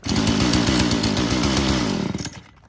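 A Japanese chainsaw, one of a batch of used Husqvarna, Makita, Echo and Komatsu saws, running with a loud buzzing two-stroke engine that revs steadily for about two seconds and then winds down and cuts off.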